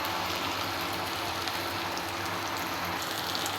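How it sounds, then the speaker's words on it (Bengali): Onions frying lightly in a pan give a steady, dense sizzle that runs evenly throughout with no pauses. Nobody speaks over it. "আপনারা দেখতেই পাচ্ছেন পেঁয়াজগুলো হালকা ভেজে নিব"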